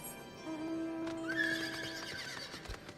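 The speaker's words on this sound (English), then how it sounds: "I think I can get on the horse" A horse in the online role-playing game Final Fantasy 14 lets out a clear, rising whinny, followed by faint hoof clops, heard alone with no talk.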